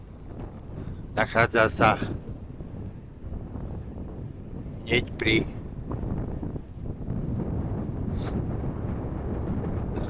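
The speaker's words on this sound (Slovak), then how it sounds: "Prevádza nás tradičný vietor." Wind blowing across the microphone on a hilly cycling route in Hungary, a steady low rumble running throughout, with someone speaking in short bursts over it.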